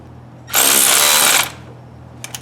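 A power tool runs on bolts of a serpentine belt conversion kit on an engine, one loud, close, high whirring burst of about a second, followed by a couple of faint clicks over a low steady hum.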